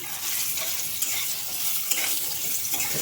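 Steady frying sizzle of boiled chickpeas in a pan with occasional stirring scrapes, close and moderately loud, no voices.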